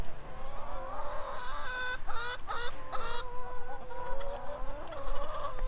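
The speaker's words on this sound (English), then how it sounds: "must have left the door open or something because the chickens are out" Loose chickens clucking outside their coop, several birds close by in a run of irregular calls and squawks, with a rising call near the end and no talk.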